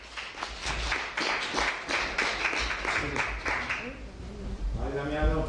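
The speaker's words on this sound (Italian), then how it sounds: "Accogliamolo con un applauso, Damiano" An audience claps together to welcome Damiano, a guest speaker called up at a gathering; dense, steady clapping fills most of the stretch before a voice starts talking near the end.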